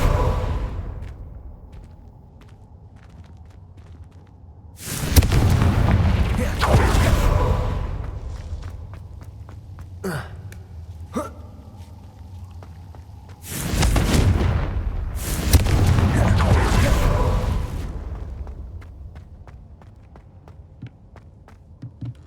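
In the video game Hogwarts Legacy, the Confringo blasting spell sets off two heavy booming explosions a few seconds apart, each with a long roaring rumble and tail, alongside faint footsteps and ambient game sound between them.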